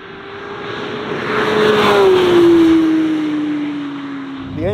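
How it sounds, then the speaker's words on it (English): A Porsche 911 GT3 flat-six engine howls loudly nearby, its pitch sliding steadily downward as it passes at high revs, swelling then easing off. "when it revs all the way out there towards the red line, it is just making an incredible sound"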